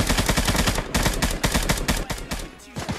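In the battle royale game Knives Out, loud, close automatic gunfire rattles out in fast repeated bursts almost without a break, then thins out near the end.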